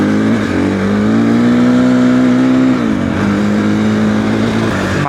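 A Triumph TF 450-E dirt bike on a rocky trail gives a quiet, steady motor whine that rises slightly, dips briefly midway, then holds. No one speaks.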